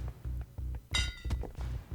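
Melee weapon strikes chopping into an enemy in the Boneworks VR game: a rhythmic series of dull thunks about every quarter second, with one sharper metallic clink in the middle, close and fairly quiet.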